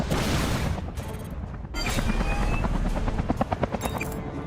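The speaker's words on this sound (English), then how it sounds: "Check out these choppers." Helicopters in the video game Front Mission 3 thrum and roar continuously, mixed with bursts of rapid gunfire and booms, with a short rhythmic series of loud thuds near the end.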